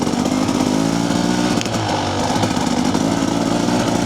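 Motorcycle engine running steadily with a TSP tune flashed to the ECU on a throttle-body-injected bike, a loud, continuous buzzing drone close by with no talk over it.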